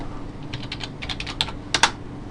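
Someone types a short run of key presses on a computer keyboard to log in, with light clicks that build to a few firmer taps, heard up close with no speech.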